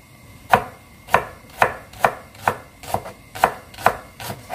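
Green onions being chopped with a knife on a cutting board for a kimchi fish cake udon topping, about eight crisp, evenly spaced knife strikes, close and clear, with no talking.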